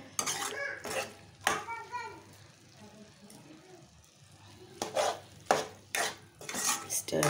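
Brinjal fry being stirred in a pan, clinking and scraping of a utensil against the metal in several bursts, with a faint sizzle underneath and a brief voice.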